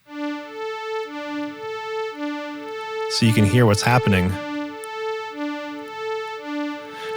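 Two synthesizer oscillators flutter back and forth between two notes at a slow LFO rate, a steady alternating tone with a brief spoken remark over it midway.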